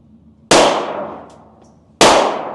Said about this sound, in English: I'm mainly shooting for this at this point